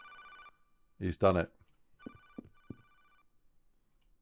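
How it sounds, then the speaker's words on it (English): An early digital era office phone rings in short electronic bursts as an Unreal Engine sound effect, faint and separated by gaps, with a person talking in between. "that's the phone sound that I wanted"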